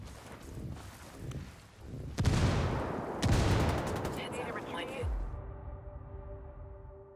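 Frag grenade thrown and exploding in Ghost Recon Wildlands: a heavy blast thumps in, and a second burst follows about a second later, amid rattling gunfire and battle noise that slowly fades out.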